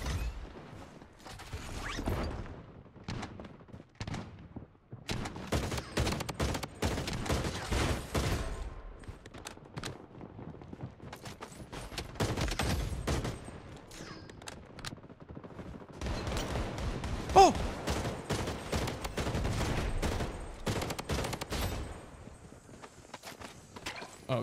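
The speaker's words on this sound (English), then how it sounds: "I think this is the burst gun" A burst gun fires in the video game Bloodstrike, on the Shutter Island map: rapid clustered bursts of sharp shots come in uneven volleys, with mechanical clicks and footsteps between them.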